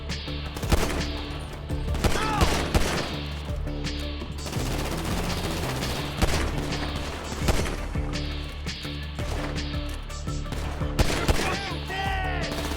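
Rapid bursts of gunfire from a shootout in the video game GTA V, repeated volleys and loud sharp shots across the scene, mixed with game music and voices talking over the action.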